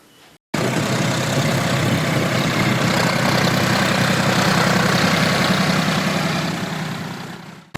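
Tractor working in a paddy field ahead of Mundakan rice cultivation, a steady loud diesel engine drone starting abruptly and holding for several seconds before easing off slightly, no voices.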